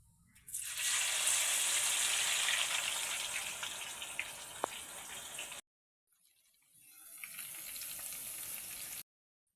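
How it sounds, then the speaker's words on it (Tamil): Onions deep-frying in hot oil until golden for Maldives fish sambol give a steady, close crackling sizzle that breaks off abruptly, then returns and builds again before stopping. "சம்பளுக்கு ஒரு பாத்திரத்தில் எண்ணெய் வச்சு எண்ணெய் சூடான பிறகு வெங்காயத்தை பொன்னிறமாக பொரிச்சு எடுத்துக்கொள்ளும்."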